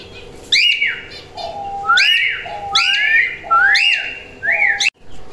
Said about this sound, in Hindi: जैसे जैसे हम सीटी मारते हैं वैसे वैसे ये भी मारते हैं।